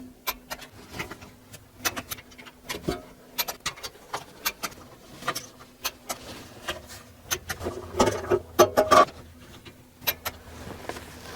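A wrench ratcheting on the bolts of an aFe Power Pro Series rear differential cover, rapid metallic clicks and taps close by, with ticking bursts in an uneven rhythm, and no voices.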